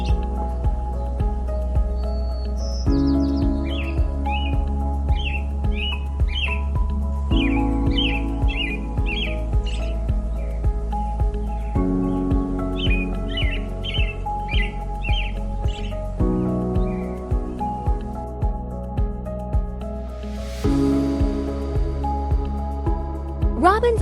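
American robin singing, a long run of repeated bright whistled phrases in steady rhythm, mid-distance, over a constant low hum with soft intermittent thuds.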